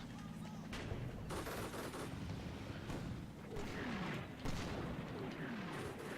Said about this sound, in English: Artillery hitting my rear.